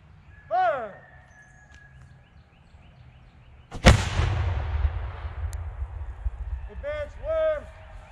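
A historic sailor-crewed cannon fires once with a loud, sharp blast, followed by a long rumbling decay that rolls on for several seconds, with shouted commands before and after.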